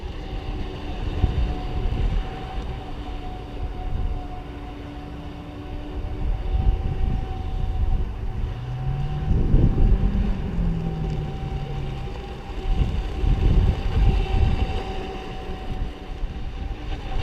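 A brushless RC racing boat runs on open water, its motor droning as a steady rush that swells and fades as it passes, with a rising and falling whine midway, heard from the shore.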